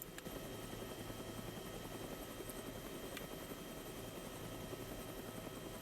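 Helicopter in the DayZ video game hovering on autopilot, a steady close rotor drone with engine whine running unbroken throughout and no talk.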